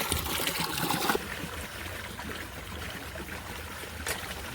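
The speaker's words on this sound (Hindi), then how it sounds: "पानी चल रहा है ताज़ा ताज़ा।" Running water pouring over potatoes as they are washed, a steady close splashing trickle that is heavier at first and then settles to a softer flow.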